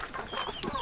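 Indian game chickens clucking close by, a quick string of short, uneven clucks at moderate loudness with no talk over them.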